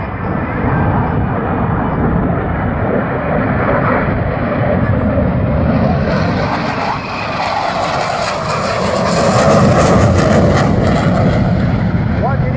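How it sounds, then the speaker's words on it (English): An F/A-18 Hornet jet banks through a tight turn at a Naval Air Station Oceana airshow, its loud continuous engine roar swelling toward the end with a rising high-pitched whine, steady and nearby throughout. "The ability of the Hornet to turn around in a very tight space gives it a tremendous tactical advantage."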